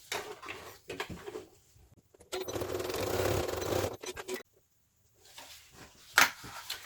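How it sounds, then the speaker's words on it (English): A sewing machine stitches the boxed bottom corners of a fabric bag in short bursts, one longer steady run of motor whir between brief pauses and small handling clicks, heard close and fairly quiet. "So let's do the bottom corners first."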